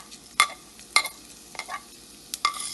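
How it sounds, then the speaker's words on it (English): Mustard and cumin seeds dropped into hot cooking oil for poha, giving a soft steady sizzle broken by a few sharp, close pops and clinks about every half second. "To the same oil I am adding mustard seeds, next cumin seed,"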